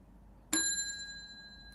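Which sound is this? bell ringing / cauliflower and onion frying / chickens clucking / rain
bell ringing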